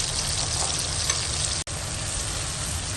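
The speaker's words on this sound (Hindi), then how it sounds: "ये सारे मसालों के साथ ना मैं इसको अच्छी तरह भून दूँगी" Lentils roasting in a pan with salt, turmeric and dry coriander, a dense, steady frying hiss that holds at an even level with a very brief cutout partway through.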